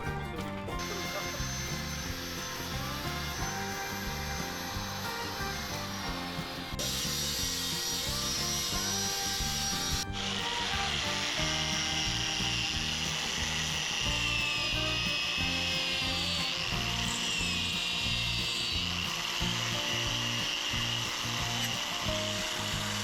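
Filing and grinding on a DIY model part for a Graphic Pro refrigerated truck, shortening it by 2 mm, makes a continuous close scraping, rubbing and buzzing tool noise, with rhythmic strokes and shifting pitch throughout.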